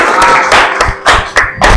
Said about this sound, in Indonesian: tepuk tangan lagi untuk 3 orang peraih nilai tertinggi kita